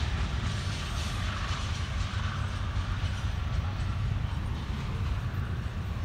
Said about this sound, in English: Got another CSX with NS passing.